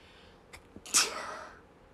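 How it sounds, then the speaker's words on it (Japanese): A short intake of breath, then one sharp, close sneeze that trails off quickly into quiet. "やばいくしゃみ出る"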